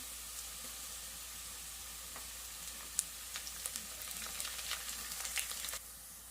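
Curry leaves, onions and slit green chillies fry in hot oil for a chicken curry, giving a soft, steady sizzle. Sharper crackles and pops grow busier toward the end, with nobody talking.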